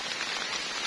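Steady rain patters on leaves and ground in a forest during wild mushroom gathering, a dense, even hiss that continues close and loud throughout with no voices.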